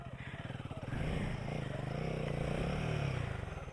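A motorcycle on a group trail ride pulls away as the clutch is released, its engine a close, steady throbbing that swells in the middle, with a voice talking over it.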